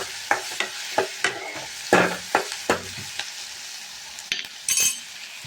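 Onions with a pinch of salt sauté in a pan while a spoon scrapes and stirs them in quick, regular strokes over a soft continuous sizzle. The strokes come close and clear, with a few light clinks near the end.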